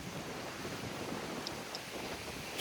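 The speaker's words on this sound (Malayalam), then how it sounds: "നല്ല കാറ്റ്," Wind blows steadily outdoors, making a continuous broadband rush close to the microphone with a faint distant chirp or two and no voices.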